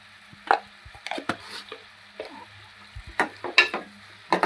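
Meat curry sizzling in a pan as a little turmeric goes in, with soft frying crackle under a string of sharp spoon scrapes and clinks against the vessel, close and fairly quiet.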